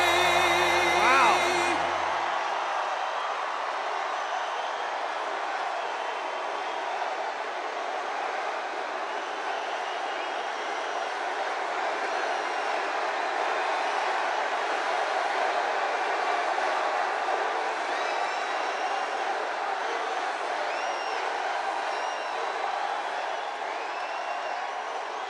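A large crowd at a political campaign rally in Uniondale, New York, roars and cheers steadily for the whole stretch, a dense sustained wash of voices with whoops, right after music cuts off at the start.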